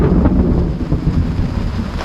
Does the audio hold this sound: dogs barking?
no